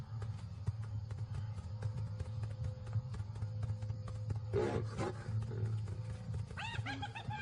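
A fully grown male lion roars near hyenas in the wild, deep low rumbling calls over steady background noise, with a brief burst of higher yelping sounds near the end.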